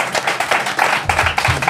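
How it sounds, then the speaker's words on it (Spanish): An audience at a live comedy show breaks into short applause, crisp scattered claps bunching into a brief burst, with a voice murmuring underneath toward the end. "Un aplauso."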